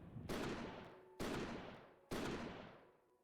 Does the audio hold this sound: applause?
no